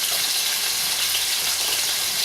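Meatballs fry in a pan of sauce, giving a steady, dense sizzling hiss that stays even and close throughout with no one talking.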